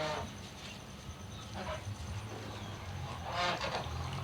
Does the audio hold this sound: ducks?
yes